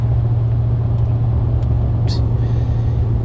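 A Hemi truck with Fox 2.0 shocks cruises down the road, giving a loud, steady low engine and tyre rumble heard from inside the cab, with a brief higher squeak near the end.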